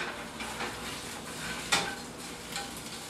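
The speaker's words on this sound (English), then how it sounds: "I'm going to stir my onion." Onions frying in a pan are stirred with a utensil, giving a close sizzle under a few scrapes and one sharp metallic clink, with no voices.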